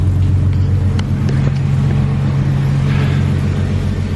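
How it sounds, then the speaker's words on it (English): Ford AU Falcon exhaust idling steadily after a gasket repair, a deep continuous low rumble with a steady hum, close and loud throughout with no talking. "The exhaust note is out here."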